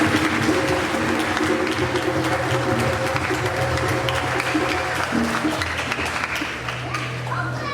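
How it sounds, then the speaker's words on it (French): A congregation at a baptism in Massy claps steadily for several seconds, a sustained wash of applause in a reverberant space with voices and a low tonal hum mixed in. "Et donc, vous pouvez vous applaudir vous-même."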